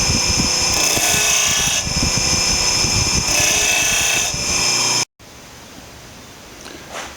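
Grinding of a steel drill bit's tip against a bench grinder wheel, a steady loud abrasive whine in several pulsing strokes, then a sudden stop to quiet room noise.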